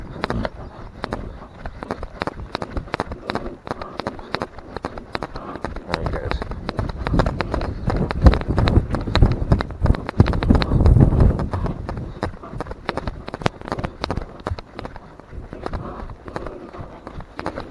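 Hoofbeats of a PRE Andalusian stallion being schooled under saddle in an arena, a steady rhythmic clip-clop of footfalls running throughout at close range, with a rider talking over it at times.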